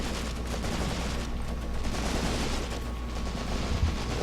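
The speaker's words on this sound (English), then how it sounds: "A lot of heavy shots there, though." Heavy gunfire in the wartime strategy game Graviteam Tactics Mius Front, a dense continuous rumble of distant machine-gun and rifle shots with muffled booms, steady and without talk.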